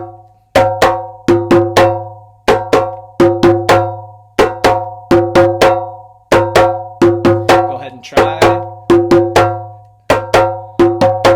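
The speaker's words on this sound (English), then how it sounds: "it's your passport into djembe playing, West African djembe playing" A West African djembe rhythm played by a drum circle, crisp, ringing strikes in a steady repeating pattern, loud and close, with a brief voice partway through.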